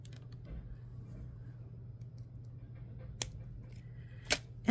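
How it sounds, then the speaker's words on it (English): A bookmark's extra beading wire is snipped off with a few sharp, bright clicks spaced out over quiet background hum, close and distinct. "Now we need to cut our extra wire off here."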